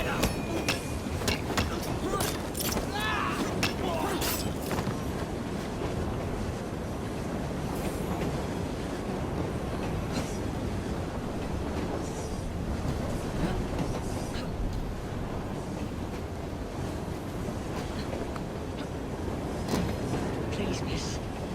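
A train rolls steadily along in Assassin's Creed Syndicate, a continuous rumbling clatter of wheels and carriage noise with sharp metallic clicks near the start and muffled voices now and then.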